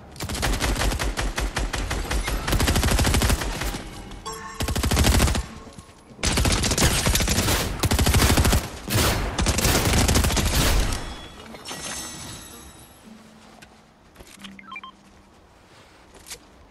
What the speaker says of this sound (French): Attention, ça tire